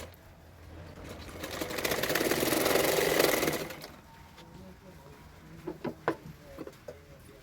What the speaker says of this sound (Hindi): तो मैंने छोटा छोटा प्लेट डालते हुए सिलाई कर रही हूँ नेक में